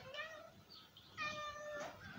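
A small female cat meows twice indoors, each call a clear, close, rising-falling mew with a short pause between, over quiet background.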